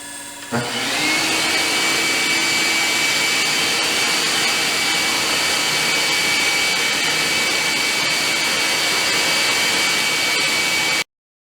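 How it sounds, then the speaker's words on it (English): A vacuum starts up with a quick thump and then whines steadily at high pitch, running loud and continuous before cutting off abruptly. "Get the vacuum on and let's go for some more."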